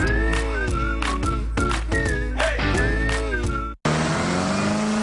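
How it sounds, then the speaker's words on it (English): Giant big rig semi-trucks race at Lake Erie Speedway at around 100 miles an hour. Loud, close engines roar and rev with rising and falling pitch, then cut abruptly into a brief, different engine tone. "See giant semi-trucks going 100 miles an hour"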